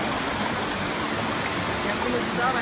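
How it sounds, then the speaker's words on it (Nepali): Steady broadband rush of water falling from a waterfall at Shaktikhor, continuous and fairly loud throughout, with no pauses or other prominent sounds over it. "झर्नाबाट झरेको पानी नै होला सायद"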